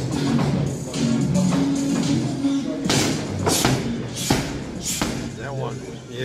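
A boxer throwing left hook punches onto pads, several sharp loud thuds landing in quick succession under people talking.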